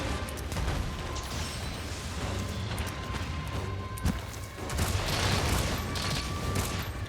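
Weapon shots and impacts during a Monster Hunter Rise: Sunbreak hunt against a large dinosaur-like monster, clattering hits and thuds over busy game noise, fairly loud and continuous.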